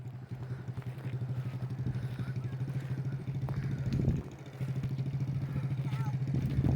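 A 50cc dirt bike engine idles nearby with a steady low putter and brief throttle blips, while people speak over it.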